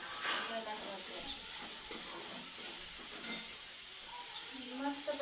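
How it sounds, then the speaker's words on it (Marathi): Onion, tomato and masala are stirred in a kadhai, giving a soft steady sizzle and hiss with faint scraping strokes, quiet and close, while someone talks over it. "मस्त पैकी फिरून घ्यायचं"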